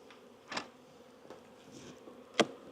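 Honeybees buzzing around a hive box, a faint low drone with a couple of sharper knocks or taps from handling the box, nobody talking.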